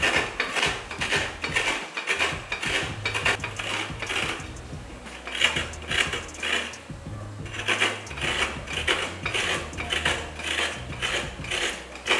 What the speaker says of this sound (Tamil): இப்போ இதை திருவிக்கலாம் ரொம்ப ஈஸியாக திருவிடலாம்